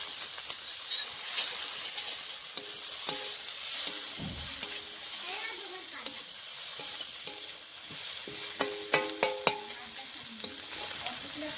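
Taki fish frying in a pan, a steady sizzle with stirring scrapes and sharp spatula taps toward the end, close and continuous with a voice heard faintly at times.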